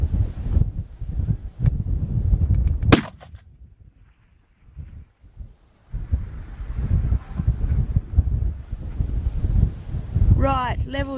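A 7mm Rem Mag rifle fired at long range on an outdoor range gives one sharp, loud crack, followed by wind buffeting the microphone and voices talking.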